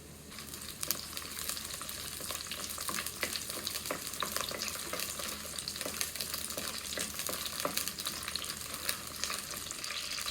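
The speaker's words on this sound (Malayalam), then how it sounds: "ആദ്യം കുറച്ച് വെളിച്ചെണ്ണ ഒഴിച്ചു കൊടുത്ത് കറിവേപ്പിലയും വറ്റൽമുളകും ഒന്ന് വഴറ്റിയെടുക്കാം." Curry leaves and dried chillies sauté in coconut oil for a Kerala-style brinjal theeyal, giving a soft, even frying crackle with scattered pops throughout, moderately distant and without speech.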